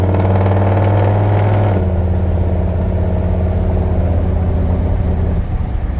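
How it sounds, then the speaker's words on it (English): A 1970 Dodge D100 pickup with a 727 automatic transmission and a slight lope accelerates loud and close, its engine note rising and then dropping as the gearbox shifts up, with a steady drone following the change. "727 automatic transmission, shifts smoothly through all the gears"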